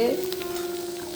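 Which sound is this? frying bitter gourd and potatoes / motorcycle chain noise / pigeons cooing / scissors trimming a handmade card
frying bitter gourd and potatoes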